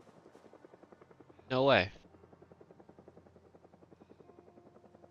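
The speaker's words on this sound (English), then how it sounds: "I'm sure you guys can all hear the helicopter." A helicopter in the video game Project Zomboid thuds steadily overhead with rapid rhythmic rotor chops, while a man briefly exclaims over it partway through.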